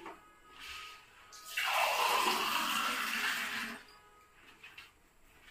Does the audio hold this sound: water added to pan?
yes